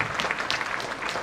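Audience applauding at a Rail Week award function, a short, even burst of moderately loud clapping from a crowd.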